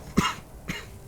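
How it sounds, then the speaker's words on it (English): Two short, muffled coughs, a stronger one followed half a second later by a softer one, close and alone in a quiet dusty underground space. "Stifle my cough."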